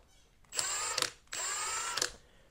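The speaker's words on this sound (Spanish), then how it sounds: "en la primera llave de impacto, cuando ingresamos al modo 1, sonaba de esta manera" A Milwaukee impact wrench set to mode 1 runs in two close bursts of high, whining mechanical buzz, each about half a second to three-quarters of a second long with a rattling hammer edge, loud and near with no talking.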